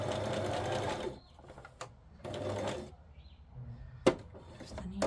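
A sewing machine stitches fabric scraps in bursts, switching between straight and zigzag stitches, with loud whirring runs broken by short pauses and a few sharp clicks of the needle or presser mechanism.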